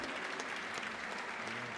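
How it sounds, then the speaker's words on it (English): A gamescom stage audience applauds at the close of a Metroid: Samus Returns presentation, steady dense clapping from a large crowd, continuous and fairly distant, with no talk over it. "give Mr. Sakamoto and Jose Luis a big round of applause"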